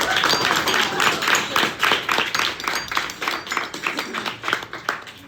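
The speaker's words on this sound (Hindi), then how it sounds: "तालियां बजाइए इनके लिए" Classroom applause for a student performer after a jal tarang demonstration, a burst of brisk, fairly close clapping from a group that continues steadily, with faint talk underneath.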